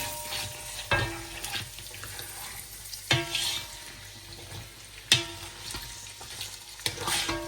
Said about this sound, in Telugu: టూ ఆనియన్స్ కట్ చేసి వేసేసిన తర్వాత ఇప్పుడు మనం కలపడం ఇది